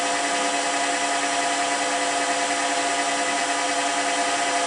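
A metal lathe turns a part with a DBit grinder tool holder taking light passes, giving a steady, continuous high whine and grinding hiss close by, with no talk.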